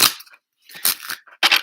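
A deck of playing cards is shuffled up close in short, crisp bursts of riffling and snapping, separated by brief silences, with no voices.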